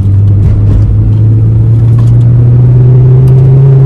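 A Mazda 323 engine droning loudly and close, a strong low steady note that climbs slightly in pitch as it revs, heard from inside the car.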